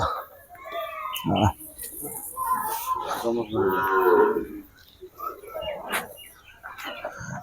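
Sahiwal breed cattle mooing at a cattle market, a long low moo with other animal calls nearby, while someone talks over it.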